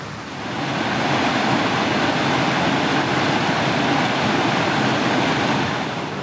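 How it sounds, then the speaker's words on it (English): Rushing river water at the meeting point of two small rivers, a dense, steady roar of flowing water that stays loud and even throughout, with no voices. "A lot of water flowing."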